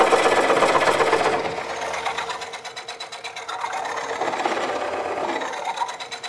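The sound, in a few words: Woodcut Bowlsaver coring a wooden bowl on a lathe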